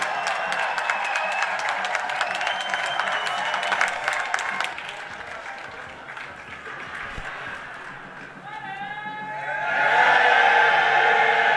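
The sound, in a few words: applause at a party congress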